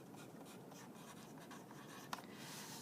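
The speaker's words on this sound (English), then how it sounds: "Now you're going to write implied texture on the other side." A marker scratches across paper while someone draws implied texture in an art lesson: faint, soft continuous strokes with one small tap near the end, quiet and close, with no voices.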